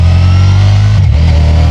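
A loud, close Ducati XDiavel V4 2025 motorcycle engine hums steadily in second gear and then dips in pitch for a moment as the revs change.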